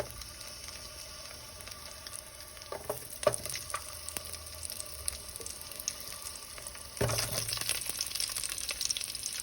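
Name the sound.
chopped onion frying in oil in a stew pot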